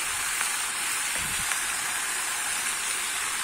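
Jackfruit fries in a pan for a prawn and jackfruit dish, a steady broadband hiss of sizzling oil throughout with a few faint scraping stirs, no talking.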